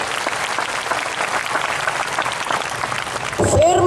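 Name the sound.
applause from church audience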